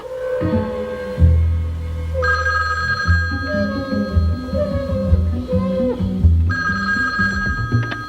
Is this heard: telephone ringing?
yes